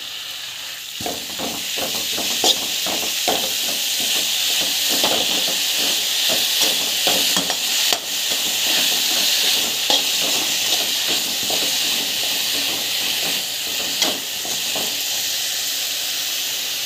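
Vegetables sautéed and stirred in a hot pan, a steady close sizzle and hiss with frequent scraping and clinking strokes of a spoon against the metal, no talk.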